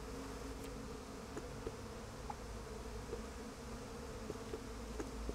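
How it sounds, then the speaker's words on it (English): Bees buzz in the video game Psychonauts 2, a soft continuous insect drone with a few faint clicks and ticks, no talk. "Want me to kill those bees?"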